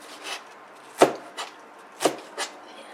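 Onions being chopped with a knife on a board, a few sharp, close knocks spaced about a second apart, each followed by a softer tap, with no voices.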